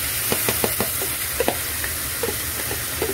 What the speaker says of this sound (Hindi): अब इसके अंदर वो चना का दाल हम लोग मिक्स कर देंगे